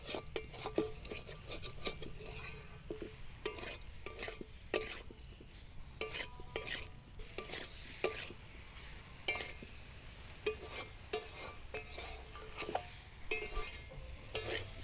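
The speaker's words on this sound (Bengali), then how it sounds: "হালকা আঁচে একদম এইভাবে ভালো করে কষতে হবে।" Potatoes for alur dom are stirred and sautéed in a pan over low heat: steady scraping and clinking of a spatula against the pan, with a soft sizzle underneath, repeated throughout and close by.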